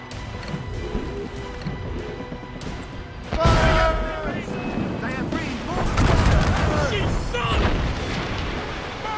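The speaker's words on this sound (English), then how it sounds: "Man the cannons!" Ship cannons firing during a naval battle in Assassin's Creed Rogue, heavy booms at about 3.5 and 6 seconds amid battle noise, with shouting voices.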